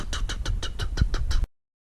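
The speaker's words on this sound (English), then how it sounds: "Now you can just hear the exhaust tick, you know, the leak from the exhaust." A BMW 4.4 liter V8 with an exhaust leak gives a close, steady ticking, about eight quick evenly spaced ticks over a low engine rumble. It cuts off abruptly after a second and a half.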